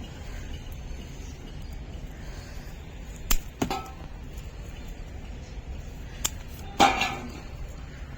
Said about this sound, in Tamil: அதனால் சிசரை வச்சு கட் பண்ணி போடுறோம்